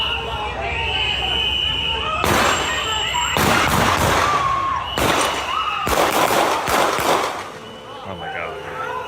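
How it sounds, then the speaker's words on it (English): Several loud gunshots crack out in bursts, some in quick succession, over background voices and crowd noise, during a fatal ICE shooting in Minneapolis. "So you can hear much more clearly there, all the gunshots."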